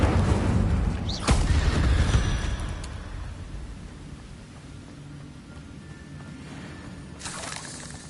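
An Incendio fire spell cast in Hogwarts Legacy: a sharp crackling burst followed by a rushing, roaring flame that fades slowly, with a second flare near the end.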